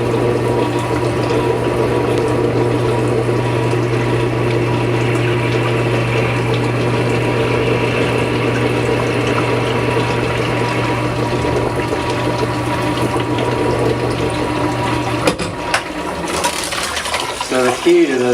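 Water-cooled drill bit grinding into a gravel stone, a steady loud whirring hum with watery sloshing throughout, cutting off abruptly near the end into brief clatter.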